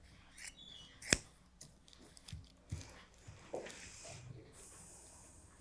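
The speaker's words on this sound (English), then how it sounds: "Now I'll cut out the collar and we'll see." Scissors snipping through paper or fabric to cut out a shirt collar mock-up for an oversized denim shirt; a few quiet, close, separate cuts and rustles, one sharp snip standing out, with faint handling noise between.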